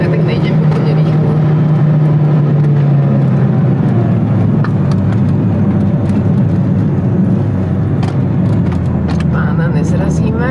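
A Mitsubishi Evo drives in jerky, lurching kangaroo style, its loud engine droning and shifting pitch as it surges unevenly, with people talking over it inside the car.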